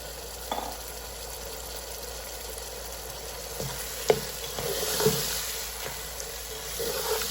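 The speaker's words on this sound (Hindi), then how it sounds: "अभी थोड़ा सा हम सब्जियों को फ्राई करेंगे।" Vegetables frying in a hot pan for egg fried rice give a steady, fairly quiet hiss, broken by scattered clinks and scrapes of a spatula against the pan.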